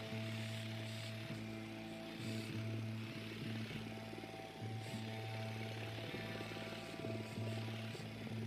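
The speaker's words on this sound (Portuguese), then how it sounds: "Drone is airborne." A surveillance drone in the video game Ghost Recon Wildlands hums steadily in flight, a constant buzzing propeller drone with sustained tonal whine, loud and continuous without speech.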